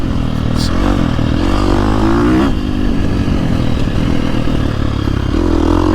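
A 2024 Husqvarna FC350 four-stroke dirt bike engine revs loud and close as the throttle rolls on, a steady throaty drone with rising pitch and some mechanical clatter, continuous throughout with no talking.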